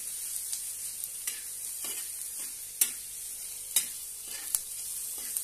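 Onion chutney with salt and garam masala frying in a pan, a steady soft sizzle under intermittent scraping stirs of a spoon against the pan, close and fairly quiet, with no talking.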